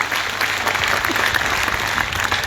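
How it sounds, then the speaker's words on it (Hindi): An audience at a memorial-anniversary event in India breaks into loud, sustained clapping to welcome a minister, a thick continuous applause heard up close without voices on top. "जोरदार तालियां बजा करके उनका अभिनंदन और स्वागत करने"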